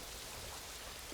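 Rain falls in the Planet Zoo video game, a dense, even hiss of steady downpour with no breaks or voices.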